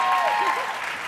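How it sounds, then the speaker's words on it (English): Audience applause at a featured-speaker conference session, a brief, dense wash of clapping that stays steady and fairly loud, with a faint tonal sound running through it. "Doesn't that deserve a round of applause?"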